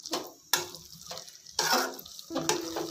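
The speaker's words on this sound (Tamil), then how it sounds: "நல்லா இந்த மசாலா எண்ணெயிலே வதங்கி பிரிஞ்சு வரட்டும்" Masala sautéing in oil for a tomato gravy, heard as short bursts of sizzling and spoon scraping in the pan, about four separate strokes with quieter gaps between them, close up.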